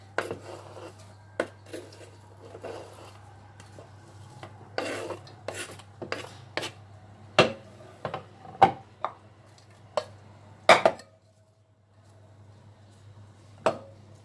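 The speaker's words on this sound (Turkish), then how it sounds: "Ve soğanımı tencereme boşaltacağım şimdi." Scraping and clattering close by as chopped onions are tipped off a board into a cooking pot, with a few sharp knocks of utensil against metal.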